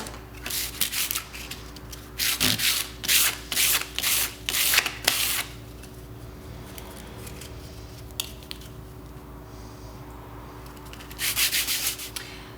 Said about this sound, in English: I apologize in advance for this horrible noise on video.